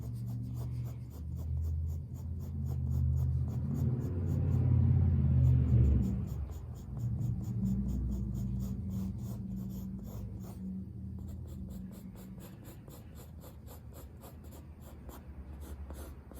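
An HB pencil hatches across paper while an eye is drawn: continuous close scratchy strokes in quick repeated rhythm, with a low rumble underneath through the first half.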